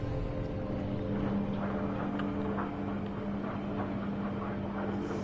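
Spaceship engines in No Man's Sky hum as a constant, moderately quiet mechanical drone with a steady low tone and a faint airy rush, unbroken throughout.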